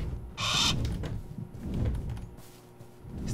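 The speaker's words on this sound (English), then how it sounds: "These damn birds." Bird calls in a video game, a hooting, owl-like cry sounding twice among quieter ambient game noise, with no talk over it.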